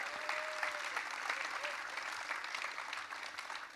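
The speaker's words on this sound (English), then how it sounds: "Make some noise for that." A live event audience bursts into steady, dense applause and cheering at an E3 showcase, loud and continuous throughout with no single voice standing out.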